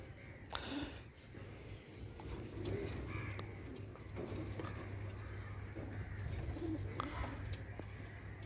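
Pigeons cooing repeatedly in soft, low calls against a quiet outdoor background with light rustling.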